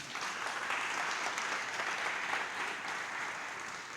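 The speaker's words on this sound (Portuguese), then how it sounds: "Dá um aplauso ao Senhor." A church congregation applauds during a sermon, an even wash of many hands clapping, fairly soft and distant, holding steady throughout without talk over it.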